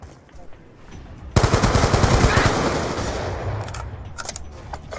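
A sudden burst of rapid automatic gunfire in Black Ops 2 erupts and rolls on as a dense, loud roar, then trails off into scattered shots.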